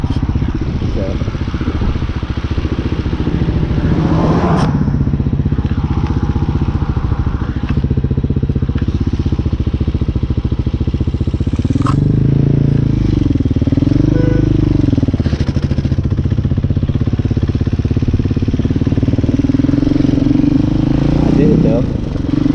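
A Hawk 250 motorcycle engine drones steadily while the bike cruises city streets on Halloween, loud and close throughout, with brief revving swells and a rider talking over it.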